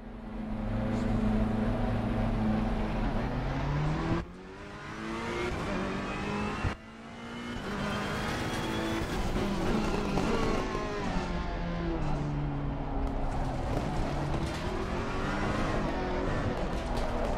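A Ferrari race car in a racing video game revs and accelerates, its engine note climbing and dropping through gear changes with two brief cuts between shifts, loud and continuous.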